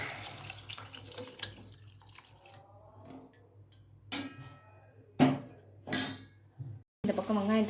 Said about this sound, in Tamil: நான் 4 டம்ளர் தண்ணி ஊற்றுறேன்